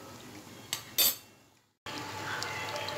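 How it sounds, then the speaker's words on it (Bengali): A spoon clinks twice against the pan while turning Kolkata-style goja sweets frying in oil, followed by a brief near-silence and then a soft, steady sizzle of bubbling oil. "হালকা করে উল্টে দেব স্পুনের সাহায্যে"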